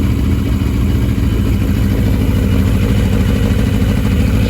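A 1982 Yamaha Maxim XJ750 motorcycle engine, a barn find fed bad gas, runs steadily and loud up close with a rough, clattering idle throughout.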